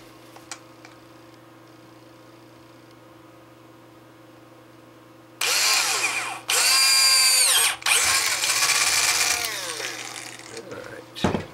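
A power drill bores a hole for a 6 meter delta loop antenna, starting after a quiet stretch as loud close whining bursts that rise and fall in pitch, with short pauses between them.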